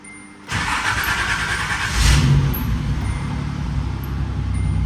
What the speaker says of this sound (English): Let's go ahead and start the car up